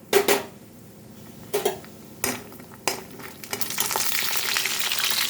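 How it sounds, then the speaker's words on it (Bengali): Lentil dumplings (bori) fry in hot oil in a wok: a few sharp clanks and stirring knocks, then a steady, loud sizzle that swells and holds to the end, with no talking. "তেলটা গরম হয়ে এসছে আমি এবার বড়িগুলো ভেজে নেবো"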